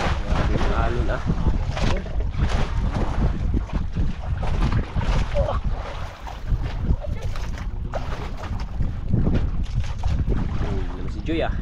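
Strong sea waves hit a small boat with heavy wind rumble, a constant churning roar of water and buffeting air close to the microphone throughout.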